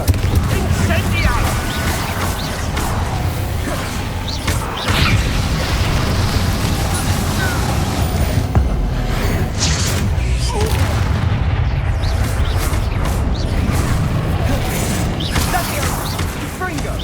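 Explosive spells from Hogwarts Legacy combat burst repeatedly in loud, dense booms and cracks, layered over constant battle mechanisms and effects for the whole stretch with no letup.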